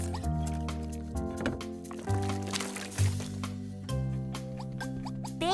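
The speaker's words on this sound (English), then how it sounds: "mix, mix with my whisk." Cartoon whisking of rainbow eggs and rainbow milk into a batter, heard as wet squishing and dripping swirls beneath steady, upbeat background music.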